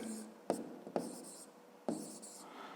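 Pen writing numbers by hand for a column addition sum on paper: three sharp pen-down taps followed by soft scratchy strokes, close and quiet, with no talk.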